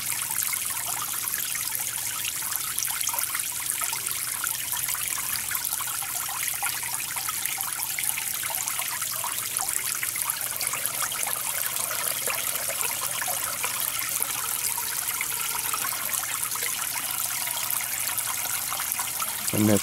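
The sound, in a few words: water trickling over a standpipe in a bell siphon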